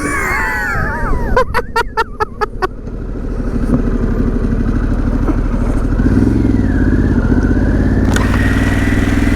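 A Harley-Davidson Pan America motorcycle in sport mode pulls hard, its engine drone rising steadily and loud close to the rider, after a burst of sharp rapid clicks near the start.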